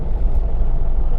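A work vehicle on the road gives a loud, close, continuous low rumble of engine and road noise, steady throughout the brief stretch with no talking.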